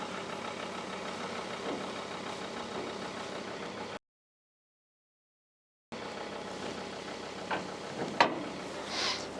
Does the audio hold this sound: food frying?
no